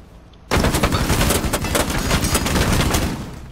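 Rapid automatic gunfire in Rainbow Six Siege, a dense sustained burst that starts abruptly after a short quiet moment and stays loud and close until near the end.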